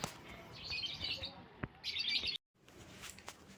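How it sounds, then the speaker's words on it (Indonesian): A bayeman, or cucak rawis, bird chirps in clear, bright bursts of rapid high notes with short pauses between them, close and fairly quiet against a soft background. "Oh ya teman-teman, ini burung bayeman."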